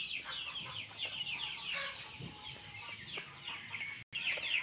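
Chickens cluck in a hillside farm yard near a corn field, a steady jumble of overlapping calls close by with no talk over them.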